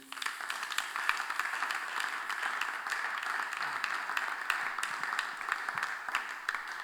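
A church congregation applauds, a steady sustained wash of many hands clapping at moderate distance, with faint voices mixed underneath.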